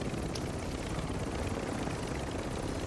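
Helicopter rotor and engine drone from the video game Call of Duty MW2 DMZ, a steady, loud, continuous thrum with broadband rumble filling the whole stretch and no speech over it.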